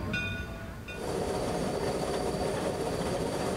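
Cass Scenic Railroad train hauled by a Shay steam locomotive in the Blue Ridge, a steady rumbling roll of cars and wheels that swells after a brief quieter moment with faint tonal squeals at the start.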